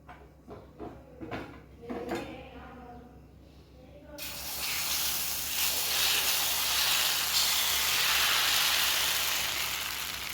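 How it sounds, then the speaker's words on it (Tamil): Black kavuni rice dosa batter hits a hot pan and bursts into a loud, steady sizzle that keeps going for several seconds. Before that come a few soft clinks and scrapes, with low talk under them. "இப்போ அது கூடவே தோசை ஊற்றி காமிக்கிறேன் பாருங்கள்."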